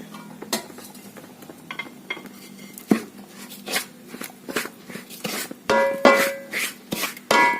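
Rice and jaggery syrup stirred with a metal spatula in a pan, giving repeated scraping and clinking strikes in an irregular rhythm, close and moderately loud, with no talking.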